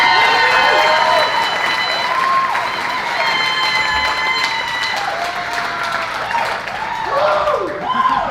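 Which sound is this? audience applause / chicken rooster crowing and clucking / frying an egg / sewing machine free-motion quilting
audience applause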